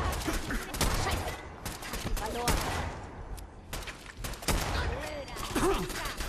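Rapid bursts of weapon fire from Fallout 4 crack out in repeated volleys, moderately loud, with a voice talking in between shots.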